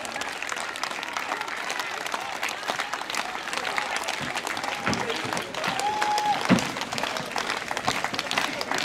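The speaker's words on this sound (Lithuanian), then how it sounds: "Jūs aplodismentai dar kartą, bravo." An audience at a festival in Klaipėda, Lithuania applauds a Belarusian folk dance group, a steady dense wash of clapping that carries on throughout, with a few voices and a brief tone rising over it.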